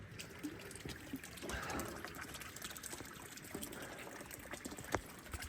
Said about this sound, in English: Now you can see that this fountain is giving a nice little flow.